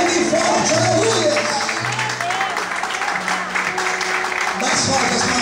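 Church congregation applauding loudly during worship, a dense continuous patter of clapping under cheering voices and background music tones.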